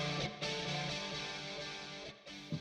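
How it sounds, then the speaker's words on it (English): An electric guitar played through overdrive set low, heavy reverb and moderate chorus rings out in a sustained, distorted chord with a shimmering, spacious tail, loud and alone with no talk. "I put the drive on 9:30, the reverb on 3 o'clock, and the chorus on 12 o'clock."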